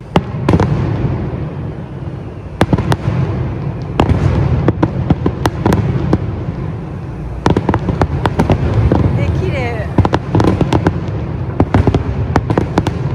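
Fireworks crack and pop in irregular bursts over a continuous rumble, some bangs sharp and close, with voices murmuring underneath, heard from a hotel balcony in Lisbon during a Macau culture and music event.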